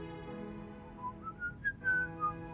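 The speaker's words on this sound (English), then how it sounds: "Winsong lets out a playful whistle." A character in the Reverse: 1999 video game whistles playfully, a clear melodic run of short rising and falling notes that climbs in pitch over a faint steady background hum.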